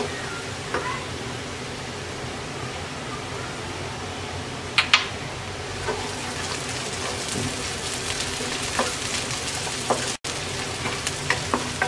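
Onion, garlic and chopped green chillies frying in a pan for a prawn and radish greens stir-fry, giving a steady rain-like sizzle up close with occasional clinks and stirring scrapes, without speech.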